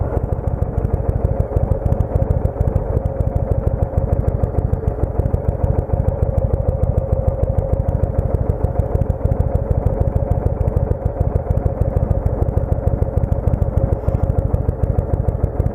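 A motorcycle engine idles steadily at a traffic junction, its low mechanical rumble and faint clatter constant and close throughout, with no talk.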